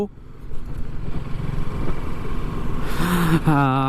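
TVS Apache RTR 310, a 312 cc motorcycle, engine running with a steady low rumble under a voice, then revving up sharply near the end with rising whine.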